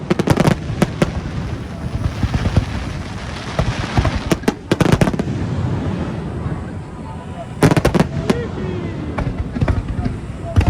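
Repeated sharp cracks and booms of fireworks going off, some in quick clusters, with voices murmuring in the background.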